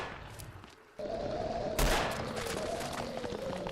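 Gunfire in the Fallout 4 video game during a survival horror fight, a dense sustained barrage that starts abruptly and swells into a louder burst partway through, continuing steadily to the end.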